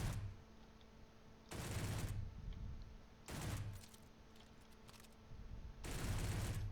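Automatic gunfire in the video game Space Engineers, three bursts of rapid shots a second or so long, separated by quieter stretches of low humming background.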